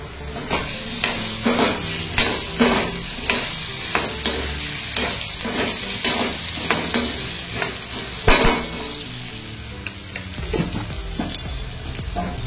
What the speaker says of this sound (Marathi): वाटण चांगलं तेलात परतलं की त्यात मी हे काशी भोपळा सोडते आणि त्याला देखील मी दम्मावर शिजवून घेते.